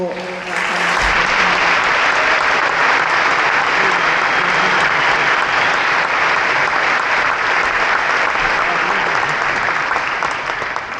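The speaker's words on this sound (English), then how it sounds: "please give a big round of applause for all of our panellists" Sustained applause from the audience at a Dunedin Hospital healthcare rally, honouring the panellists. It starts abruptly, stays loud and dense with many hands clapping, and runs unbroken to the end.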